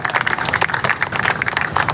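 Audience applause at a ceremony for the renovated Hyderi Market in North Nazimabad: a crowd claps steadily in a rapid, even patter at moderate loudness, with no voices over it.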